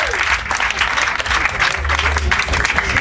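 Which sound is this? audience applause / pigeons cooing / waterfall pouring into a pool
audience applause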